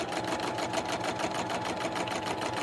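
A sewing machine stitches a quilt with a steady fast rhythmic whir and needle chatter, continuous and close, with no talking.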